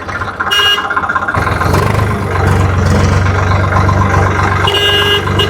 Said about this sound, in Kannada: ಓಕೆ ಟ್ರ್ಯಾಕ್ಟರ್ ಹೊಡಿತೀನಿ ನೋಡಿ, ಸೌಂಡ್ ಕೇಳಿಸ್ಕೊ